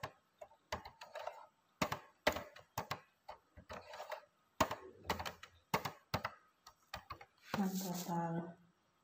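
Computer keyboard typing in bursts of quick clicks, near and moderately loud, entering item names into a statistics data view, with a brief voiced sound near the end.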